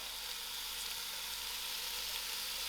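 Lamb pieces sizzle and fry in a hot pot on a lowered stove for a spicy stew, a steady close hiss that runs evenly throughout with no voices.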